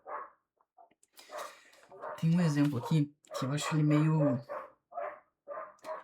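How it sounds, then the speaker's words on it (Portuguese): A dog barks several times, loud and near, in short irregular yips and bow-wows. A person talks at the same time and the barking partly overlaps the speech. "Esse cachorro não deixa mais."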